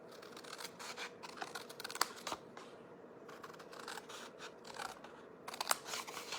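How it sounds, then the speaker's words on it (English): Scissors snip paper during a craft class making a liquid glue holder, with clusters of quick, crisp cuts in short bursts separated by pauses, close but fairly quiet. "So we're gonna snip on the sides."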